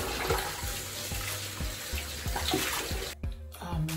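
Tap water runs steadily into a sink while a facial mask is rinsed off, a full rushing splash broken by brief dips and small knocks, with no voice over it.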